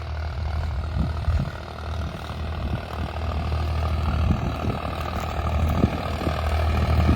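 A Farmtrac 60 tractor ploughing a field, its engine giving a steady, heavy low drone with a slight rise and fall in load, heard close and continuous.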